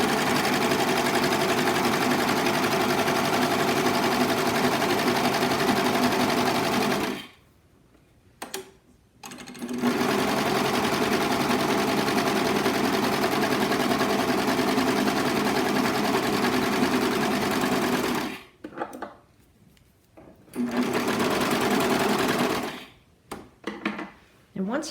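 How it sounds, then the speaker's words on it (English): A serger runs steadily, stitching along the curved edges of fabric face mask pieces chained together, in long continuous bursts broken by short pauses, loud and close with no talking. "we're going to serge along the big curve on both our outside and inside piece"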